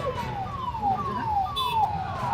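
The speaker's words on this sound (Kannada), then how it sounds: "ಆಂಬುಲೆನ್ಸ್ ಬಂದು ದಾರಿ ಬಿಡ್ರಿ" An ambulance siren wails in repeated falling sweeps, moderately distant, over steady traffic rumble.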